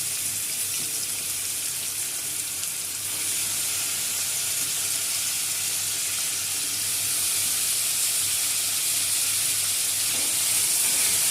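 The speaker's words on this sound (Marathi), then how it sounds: "तर आता इथं थोडं तेल गरम झालेलं आहे. तर आता बटाटे टाकूया." Potatoes dropped into hot oil for sabudana khichdi, giving a steady broad hiss of sizzling that swells slightly louder toward the end, with no talking.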